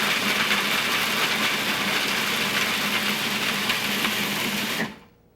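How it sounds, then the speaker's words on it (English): A pastry grinder runs steadily while finely grinding almonds, a constant loud mechanical whir with a rattling buzz that holds evenly and then cuts off abruptly near the end. "you have to put this through a pastry grinder and get them really, really well ground"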